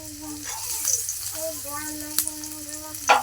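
Crushed garlic cloves hit hot oil in a pan with a sizzle, mixed with clinks and stirring noises as someone talks over the cooking.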